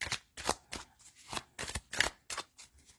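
Tarot cards shuffled and drawn by hand, a run of quick papery riffles and soft slaps in uneven bursts, close and fairly quiet with no talking.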